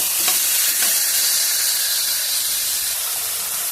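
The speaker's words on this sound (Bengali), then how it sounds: "আঁচ কমিয়ে একদম আস্তে আস্তে করে আমি কষানোটা করবো" Egg curry masala sizzles and hisses steadily as it is slowly fried on low heat, a close, even frying sound with faint stirring and no talking.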